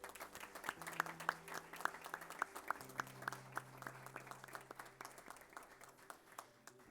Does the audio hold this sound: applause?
yes